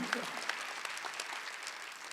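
A church congregation at a Korean Wednesday worship service claps in a quick burst of applause, fairly faint and even throughout.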